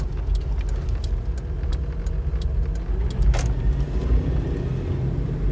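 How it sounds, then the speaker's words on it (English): A Toyota 80 series Land Cruiser on 33-inch tires drives along, heard from inside as a steady low engine and road rumble with faint clicks and rattles. "it's time to take it for a test drive and see how it drives"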